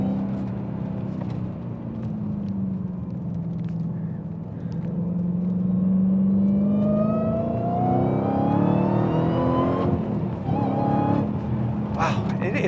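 A Dodge Hellcat's engine accelerates on a track, its loud rumble rising steadily in pitch through a long pull and then shifting near the end, with people talking over it.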